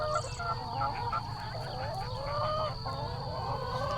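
Hens cluck steadily at an Eggmobile, a mobile henhouse, with overlapping calls over a continuous hum and no talk.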